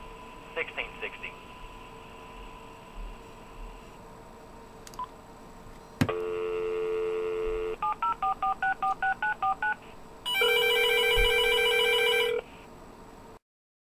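A Uniden DECT 6.0 cordless telephone, model 1660, gives a few quick key beeps, then a sustained tone, a run of evenly spaced dialing tones and finally a loud electronic ring burst, all close and clear.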